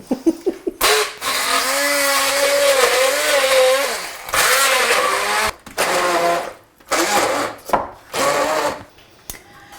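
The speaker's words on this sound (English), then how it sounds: "So, my blitzer. This is where I make a lot of noise." A food processor whirs loudly in several bursts while blending hummus, its motor pitch rising and falling, separated by short pauses and rattling.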